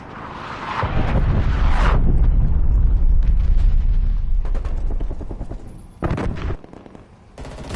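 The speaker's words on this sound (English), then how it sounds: "artillery targeting active. Net call, incoming artillery." Artillery strike in the Warzone video game: heavy explosions boom in a sustained rumbling barrage, then a few scattered cracks and one more loud blast near the end.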